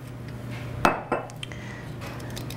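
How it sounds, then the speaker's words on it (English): A metal spoon scraping the skin off a cut piece of ginger root, two short close scrapes followed by a faint tap against quiet kitchen background. "take a spoon to peel off the outside skin"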